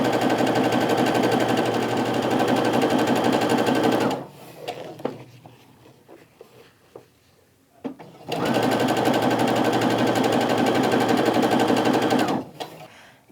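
A sewing machine stitches quilt pieces for strip-pieced half-square triangles in two long, loud, steady runs of rapid mechanical whirring. They are split by a quieter pause full of handling clicks and fabric rustle.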